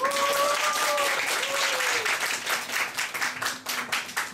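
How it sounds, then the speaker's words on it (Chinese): A crowd in a coffee shop at a live music evening applauds to welcome a guest, with steady clapping that thins toward the end and a few voices calling out over it. "让我们掌声欢迎33号的 Ada 主任"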